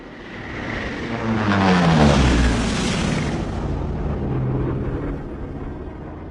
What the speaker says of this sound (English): You hear that? Yeah, I think that's our plane.